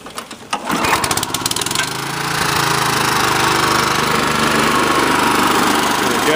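A Honda HR214 lawn mower engine is pulled, catches with a few rapid chugs, then settles into a loud, steady running drone close to the microphone.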